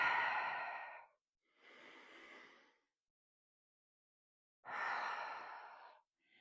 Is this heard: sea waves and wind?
no